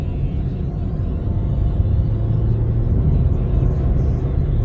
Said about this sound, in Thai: ไปเลยครับออกตัวเกียร์หนึ่ง เกียร์สองครับ